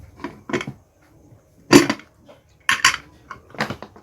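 A pressure cooker lid is fitted and locked onto a pot of chicken popati, with several separate close metallic clanks and scrapes between short pauses.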